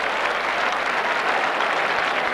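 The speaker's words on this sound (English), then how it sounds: "this crowd really appreciative of the efforts of the players on both sides. You can hear them putting their hands together in a round of applause." Steady crowd applause at a 1990 AFL football match between Melbourne and Hawthorn at the MCG, a dense continuous clapping from a large stadium crowd heard alone.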